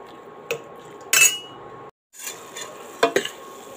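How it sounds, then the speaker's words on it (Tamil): Cauliflower is sautéed in gravy in a pan, with a few distinct clinks and scrapes of a spoon against metal over a low background, broken by a brief silent gap, close and with no voices. "இதையும் சேர்த்து இப்போ நல்லா வதக்கி எடுத்துக்கலாங்க."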